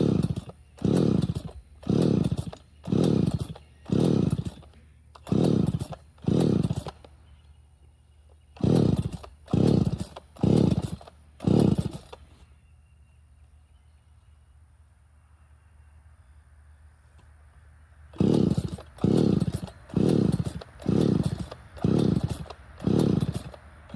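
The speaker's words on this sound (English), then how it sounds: "This is a Neotech NS-6200 chainsaw, and it starts every time on the 3rd pull." A Neotech NS-6200 gas chainsaw cutting wood roars in short, evenly spaced revving bursts, drops to a low idle for several seconds, then resumes the same rapid bursts. Loud and close.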